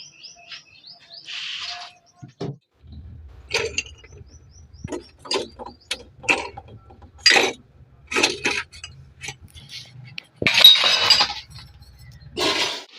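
Shards of broken glass bottles from a freezer are sorted and cleared by hand, giving scattered sharp clinks and scraping rattles in irregular bursts, close up, with faint bird chirps between them.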